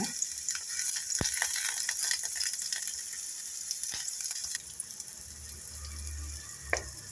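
Garlic, onion, tomato and curry leaves frying in oil in a pan, a continuous soft sizzle with a few sharp clicks of a spoon, heard alone and at moderate distance.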